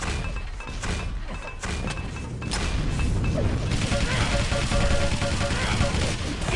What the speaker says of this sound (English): Does get a machine gun for a really nice MG actually to pick up that frag.